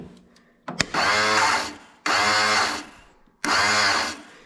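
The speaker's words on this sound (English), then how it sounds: "And you can hear it's just spinning the starter." The starter motor of an Exmark Quest zero-turn mower whirs in three separate bursts, each spinning up and running for about a second before cutting off, close and loud, with the starter spinning without turning the engine.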